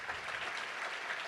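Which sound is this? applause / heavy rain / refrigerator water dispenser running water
applause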